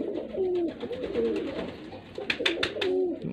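A pigeon coos close by in repeated soft, throaty phrases while being handled and shown, with a few sharp clicks and rustles near the end.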